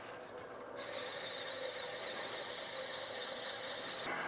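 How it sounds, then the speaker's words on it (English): Sandpaper runs against a spinning turned wooden piece on a lathe, giving a steady, hissing, whining rub that starts abruptly under the motor hum and holds evenly, close and without speech. "if you sand one direction, remember, you always have to sand the other direction too."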